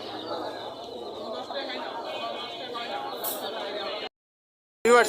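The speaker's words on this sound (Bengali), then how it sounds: "এখানে দেখেন এক জোড়া রানিং কবুতর আছে নর এবং মাদি" Pigeons coo softly under steady crowd chatter and talking at the large Mirpur pigeon market in Dhaka, then the sound drops to near silence before a short, loud burst at the end.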